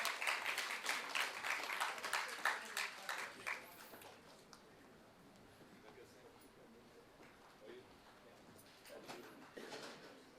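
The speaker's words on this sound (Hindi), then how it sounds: "जोरदार तालियां इसके लिए, यानी तालियों की गड़गड़ाहट जोरदार हो" Audience applause welcoming the chair at a seminar on cyber crime against women, a burst of dense clapping for a few seconds that fades to low room murmur, with a little more clapping returning near the end.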